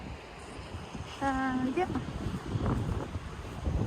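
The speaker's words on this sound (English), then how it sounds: "although it's very windy, but it's not very cold" Strong wind buffets the microphone outdoors on a windy day at Montjuic in Spain, a constant low roaring rumble beneath a person speaking briefly.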